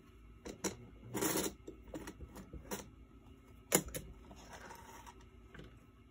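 A sewing machine stitches through paper in short, quiet bursts of rapid mechanical clatter separated by pauses, close by with no talking.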